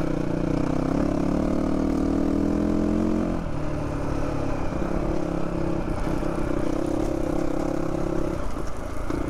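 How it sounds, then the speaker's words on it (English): A GPX Moto FSE450R four-stroke motorcycle engine drones steadily while riding, with a shift in pitch partway through and a constant loud rumble from start to end. "Man, I love the sound of four-stroke though."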